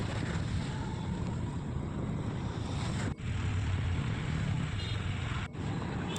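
Steady wind blowing along a road lined with large trees, a broad continuous rushing roar with no speech, briefly dipping twice.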